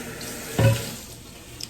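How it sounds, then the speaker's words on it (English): Water from a kitchen tap splashes briefly into a sink as bacon scrapings are rinsed away, a short close gush that fades quickly. "I scrape them right into that sink. And it's okay to rinse it out a little bit too."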